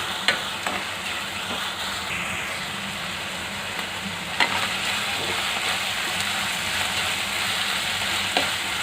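Ginger garlic paste and salt sizzling in a pan of minced meat keema, a steady frying hiss with occasional clinks and scrapes of a spoon stirring, close and continuous.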